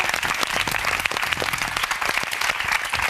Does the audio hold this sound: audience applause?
yes